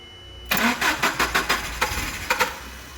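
Nissan engine with a single-cylinder misfire cranking over on the starter, a rapid rhythmic chugging of about ten pulses that begins abruptly, close and fairly loud.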